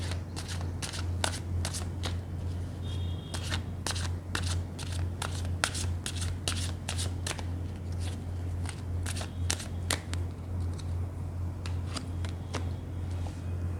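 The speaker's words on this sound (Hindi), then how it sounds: "जब तक मैं कार्ड शफल कर रही हूँ" A deck of playing cards shuffled continuously by hand for a tarot-style card reading, a dense run of quick riffling snaps and flicks, close and steady over a low background hum, with no talk.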